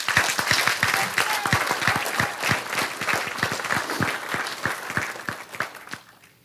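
An audience at a Morton Grove village board of trustees meeting applauds the village administrator, a steady patter of many hands clapping in an indoor room that gradually thins out and fades at the end.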